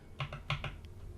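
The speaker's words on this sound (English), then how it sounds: "Now, in the window, you want to type in pip space" A handful of quick keystrokes tap on a computer keyboard while a command is entered in Windows PowerShell, soft and close, in a short uneven burst with a pause between presses.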